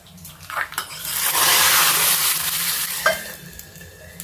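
Hot tempering of fried onion and dry red chillies poured into rasam gives a sudden loud burst of sizzling hiss that swells and slowly fades, with a few clinks of utensils.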